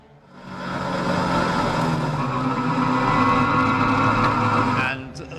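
Mallock Mk20B racing cars sweep past at Oulton Park to finish a lap, engines roaring loud and close for several seconds before fading quickly, with a commentator talking over them.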